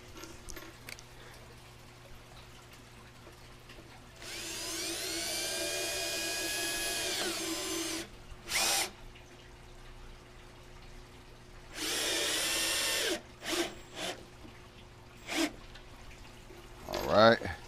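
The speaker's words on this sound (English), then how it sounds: "screw it from the bottom and then I'll screw the top one in" A power drill drives long screws into scrap wood while a cart is built, giving several separate whirring bursts. Two are long and steady, and the others are short blips with quiet pauses in between.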